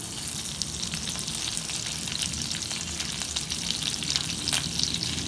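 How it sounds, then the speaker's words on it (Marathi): Curry leaves sizzling in hot oil for sambar, a steady, dense crackle and spit of frying that holds evenly throughout with no talking. "तेल चांगलं तापू द्यायचं. त्यात आपण आता कढीपत्ता टाकूया."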